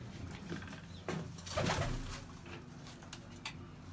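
Pigeons coo softly in a loft in Bathinda, with low murmuring calls and a brief flutter of wings over quiet background noise.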